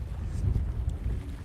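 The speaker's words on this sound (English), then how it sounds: "It's windy, but it's fine." Wind buffets an outdoor microphone during pike fishing in rainy weather, a low, rumbling, gusty roar that swells and dips over a second and a half, with no talk.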